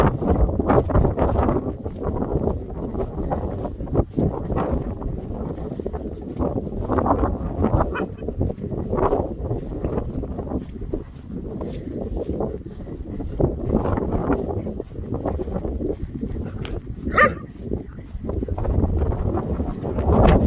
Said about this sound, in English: Walking into the wind is a whole other matter than walking away from it.